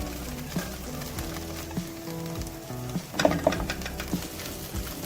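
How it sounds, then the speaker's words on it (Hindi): Garlic sizzles steadily in a hot pan while chow mein is being cooked, a constant frying hiss broken by a few scrapes and clinks of a utensil stirring against the pan. "अब हम पैन में लहसुन ऐड करेंगे।"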